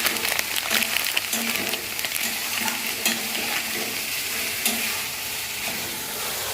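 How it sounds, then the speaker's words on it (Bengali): Potatoes with turmeric and spices sautéing in a pan, a loud continuous hiss and crackle of oil with occasional stirring scrapes, close by, without speech. "আর এই যে দেখো, এখানে কষাচ্ছি"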